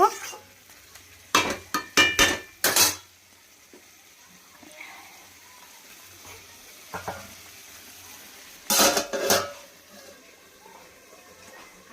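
A lid goes onto a pot of goat meat and peas, making two clusters of sharp metallic clanks and rattles. Quieter cooking noise fills the gaps between them, up close and without talking.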